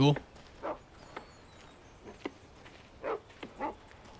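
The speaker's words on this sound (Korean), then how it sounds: "이거 어디서 댕댕이 소리가" A dog barks in the Alan Wake video game, a few short separate barks spread out and heard at a moderate distance over a quiet, dark game ambience.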